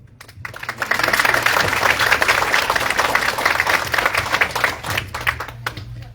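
Applause from an audience at a Chicago mayoral campaign event swells quickly into loud, close clapping, holds for several seconds, then thins and fades out.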